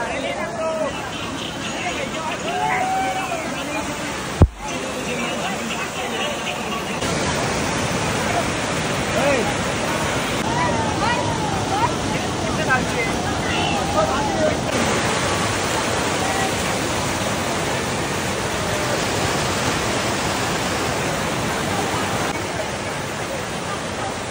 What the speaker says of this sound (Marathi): त्या धबधब्यापाशी आलोय मी